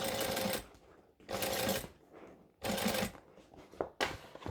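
A sewing machine stitches around a round 3D bag in a tutorial, running in several loud bursts separated by short pauses while the fabric is lifted and turned.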